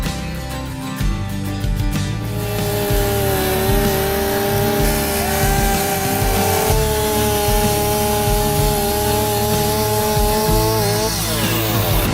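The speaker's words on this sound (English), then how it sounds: "So I guess we should just start sawing pieces off and make them manageable sizes." A chainsaw cuts an old tree into pieces, its engine running loud and close, the pitch rising and falling as the blade bites into the wood and revs change, with no talk over it.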